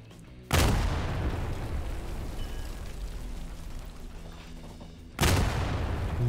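Two loud, booming gunshots in Garry's Mod strike a FNAF animatronic nextbot, each a sharp blast followed by a long rumbling decay, spaced about five seconds apart with no talking.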